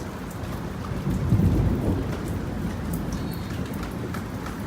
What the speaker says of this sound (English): Why is the thunder so soft?